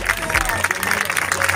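Carnival crowd applauding loudly outdoors, dense clapping and cheering with babble of voices mixed in, steady throughout.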